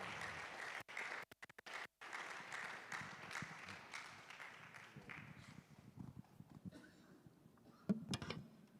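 Applause from the audience at the official launch of the 27th Ghana Universities Sports Association games at KNUST, greeting the KNUST president; dense clapping fades gradually over several seconds.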